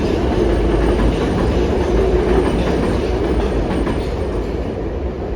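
Elevated New York City subway train rumbling past overhead on the Queens line, a loud steady roar of rail cars with faint clatter throughout, no voices.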